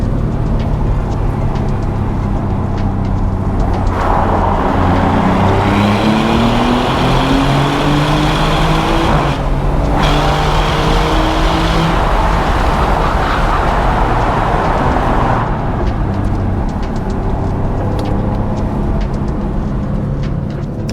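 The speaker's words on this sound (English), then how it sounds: "All right, so there's your exhaust clip." A 2024 Maserati GranTurismo's 3-liter Nettuno V6 drones loudly and continuously, its exhaust note swelling as revs climb, dipping briefly, then rising again before settling.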